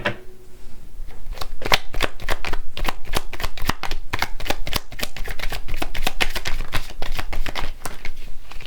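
Tarot cards are shuffled continuously by hand, a rapid, close, crisp series of papery riffles and slaps lasting several seconds.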